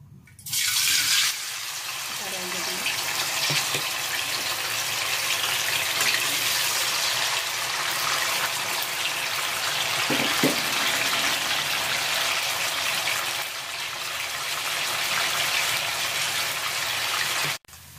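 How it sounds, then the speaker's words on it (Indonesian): Tofu frying in hot oil in a home kitchen, a loud, steady sizzling hiss that starts abruptly and holds for about sixteen seconds before cutting off, with no talking. "kita panaskan minyak. Terlebih dahulu kita goreng tahunya ya Bu."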